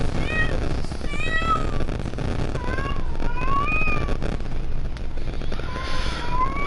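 A cat meows repeatedly in a video game, giving several rising and falling cries over a steady rushing background noise.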